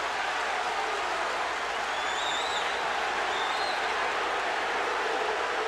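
A basketball arena crowd roars in a loud, continuous wash of cheering and applause after a physical foul, with a few whistles cutting through near the middle.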